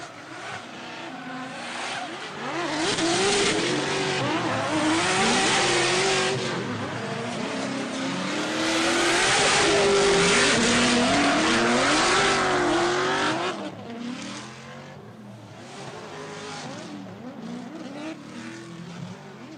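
Drift cars racing at a pro-am double elimination drift event roar with revving engines that rise and fall, overlapping with loud tire squeal and skidding, building to a peak mid-run before easing off.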